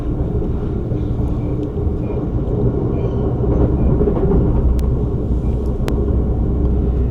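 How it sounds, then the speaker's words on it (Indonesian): A 2016-built EuroCity passenger train in the Italian and Swiss Alps rumbles steadily past at close range, a continuous low roar of wheels on track with faint metallic clicks. "Keretanya keren sih asli, emang beda ya."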